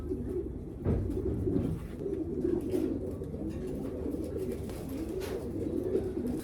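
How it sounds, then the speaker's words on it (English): Racing pigeons coo steadily in a low, throaty murmur, several birds overlapping close by in an enclosed loft. "Super Blue Bar, one of the best handling birds here at my loft"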